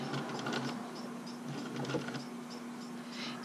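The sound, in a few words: sewing machine stitching a buttonhole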